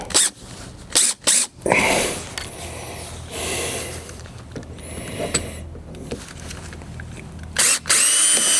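Close, loud bursts from a power drill driving fasteners into fender extensions on a Jeep Gladiator Rubicon, starting with quick stop-start pulses, then a longer, quieter stretch of working noise, and ending with two more sharp bursts.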